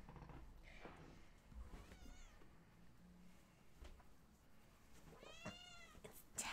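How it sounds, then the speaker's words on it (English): Several house cats meow in a quiet indoor room, with a couple of rising, drawn-out calls spaced a few seconds apart over a low, faint background. "Oh my goodness, the kitties."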